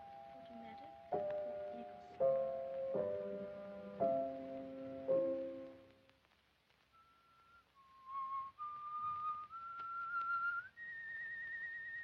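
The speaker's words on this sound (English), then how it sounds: "What's that you're whistling?" A person whistles a tune alone, a clear sequence of sustained melodic notes, first a phrase of held tones, then a brief pause and a rising series of single notes, close and fairly loud.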